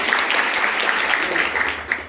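Schoolchildren at a girls' inter college clap together in a dense, steady burst of applause lasting a couple of seconds, with a few voices mixed in.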